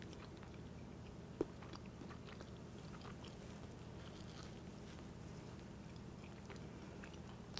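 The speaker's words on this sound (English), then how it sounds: "Let's take a bite." A soft bite into a potato roll, a single close crunch about a second and a half in, then quiet chewing over a low, steady room hum with no talking.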